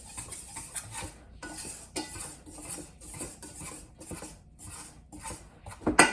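A stainless steel dough whisk with wooden handles scrapes and clinks in a bowl while stirring salt into sourdough dough, producing repeated close metallic scraping strokes in an uneven rhythm, with a sharper clank at the end.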